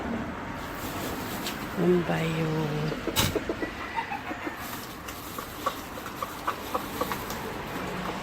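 Pet chicken in a backyard giving a few short clucks and a drawn-out squawk, fairly close, mixed with children's voices and outdoor background noise.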